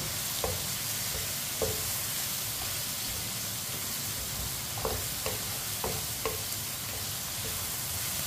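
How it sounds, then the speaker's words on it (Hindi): Spices frying in a pot over a low flame for aloo gosht, a steady dense sizzle with a few soft stirring knocks and scrapes scattered through it. "मसालों को भी 1 मिनट के लिए फ्राई कर लेंगे, पका लेंगे।"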